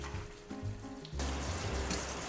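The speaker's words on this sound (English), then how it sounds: "now we're just washing this off, washing the impurities off, all that beef gunk" Running tap water rinsing browned beef shanks in a kitchen sink, a steady broadband gush that starts softer and then swells louder and fuller after about a second, continuing without pause.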